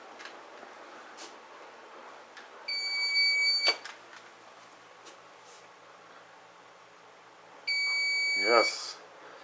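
A Lorex 4K security camera system emits two separate bursts of shrill, steady electronic beeping, each lasting about a second, spaced several seconds apart indoors, with faint background noise between them.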